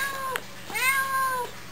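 Two short cat meows close by, the second longer and rising, heard clearly with no talking over them.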